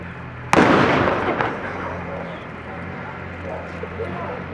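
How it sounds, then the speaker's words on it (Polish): A sharp, loud blank gunshot rings out and echoes away at a historical reenactment at Książ Castle, followed by a fainter second shot and a long fading rumble, with a voice speaking underneath. "To są oczywiście tylko strzały na widok,"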